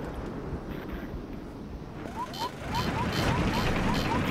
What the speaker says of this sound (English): Oh, fire alarms